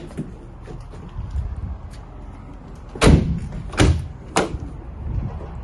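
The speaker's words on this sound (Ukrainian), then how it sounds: "двері розпашонка." Rear swing doors on a 2019 Nissan NV300 refrigerated van with a Lamberet body, shutting in three separate solid thuds a second or so apart against faint outdoor background.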